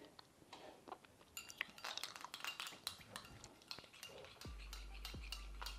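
Spoon mixing lemon and honey in a dish, with quiet irregular clinks and scrapes against the dish that come close together and then thin out.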